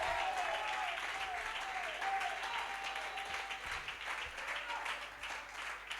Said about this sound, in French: Une main d'acclamation au Seigneur.